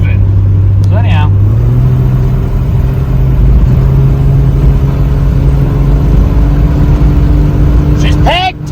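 An old Jeep engine runs steadily at low speed while driving, a loud continuous drone with slowly shifting pitch, and someone speaks briefly at the start and end.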